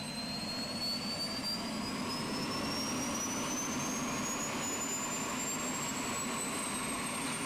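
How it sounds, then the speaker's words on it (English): An Airbus H135 helicopter's turbine engine spools up in Microsoft Flight Simulator, a steady loud jet-like roar with a whine rising slowly in pitch throughout, heard alone without talk. "Now we can hear the engine starting."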